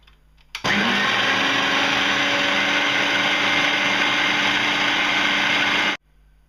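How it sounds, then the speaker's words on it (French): A food processor runs loudly and steadily for about five seconds, blending almond powder and icing sugar for macarons. It starts and stops abruptly, with a constant whirring drone throughout. "Donc on passe au mixeur environ 1 à 2 minutes"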